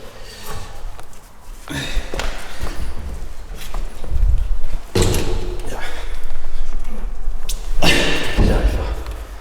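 A heavy door opening in a castle crypt, with scraping and knocking bursts and shuffling movement in a close, noisy space, and someone talking throughout.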